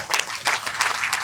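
Audience clapping at a Hindu temple wedding ceremony honoring Lord Venkateswara, a dense, steady patter of many hands with rhythmic bursts, fairly close and continuous for the whole moment.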